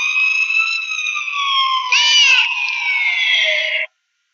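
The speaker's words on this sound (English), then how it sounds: "That's quite a siren." A loud electronic siren tone holds and slowly glides, with a brief warbling burst midway, then cuts off abruptly.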